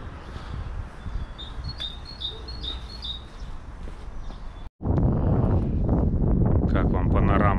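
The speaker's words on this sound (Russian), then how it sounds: "О, птичек слушать будем." Small birds chirp and tweet in a short series of high calls over wind noise outdoors, then a gust of wind rumble takes over while a person talks.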